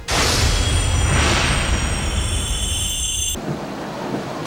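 Heavy rain pours down steadily during a thunderstorm while motorists drive on slick roads in bad weather. A loud, continuous roar of rain carries a deep rumble of thunder, and there are no voices.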